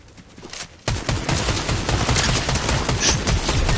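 Rapid automatic gunfire in Fortnite bursts in after a brief quiet moment, then keeps going as dense, close, continuous volleys of shots for several seconds.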